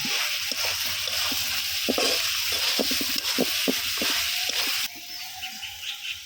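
Duck eggs being sautéed in an onion spice paste, with repeated close scraping and sloshing strokes of a spoon through the wet masala over a sizzle, quieter in the final seconds.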